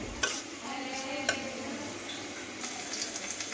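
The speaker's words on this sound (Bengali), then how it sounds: "একটু নাড়াচাড়া করে নিচ্ছি" Rice for pulao frying in a pan hisses softly and steadily, with a couple of sharp spoon clicks against the metal as it is turned over.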